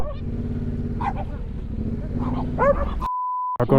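A dog on a mountain road in remote Peru barks and whimpers in short yips and whines, fairly close, over a steady low motorcycle engine drone, ending in a sustained tone.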